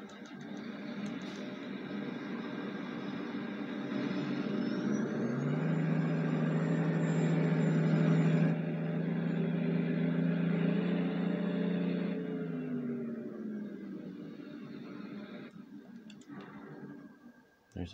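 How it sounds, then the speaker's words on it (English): Truck engine in Farming Simulator 19, a steady droning rumble that swells to a strong low roar midway, then eases off and fades with faint ticking near the end. "Man, that truck sounds good."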